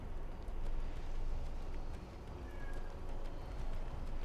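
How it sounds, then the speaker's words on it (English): A cat meows faintly in the background of a room while someone plays a card game, the soft calls half buried in steady ambient noise. "There's a cat meowing at me."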